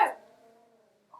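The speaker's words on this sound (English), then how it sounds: "What is he barking at?" A dog indoors at home gives one sharp, close bark that trails off into a brief tonal whine, with a faint sound at the very end.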